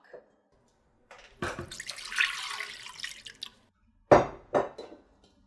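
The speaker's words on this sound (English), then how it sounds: "we're going to start with 2 cups of unsweetened coconut milk" Unsweetened coconut milk pours into a blender for a chocolate mocha maca smoothie: a close, gurgling stream of liquid lasting about two seconds, followed by a few short splashy sounds.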